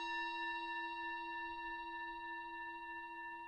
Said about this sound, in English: We've got a Tibetan singing bowl